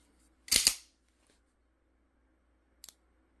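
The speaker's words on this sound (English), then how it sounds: "unless you get both clicks, you're not resetting the gun" A Springfield SA-35 pistol trigger resets with sharp mechanical clicks: a louder, slightly drawn-out click pair early, then a quick faint double click near the end, close up in otherwise quiet surroundings.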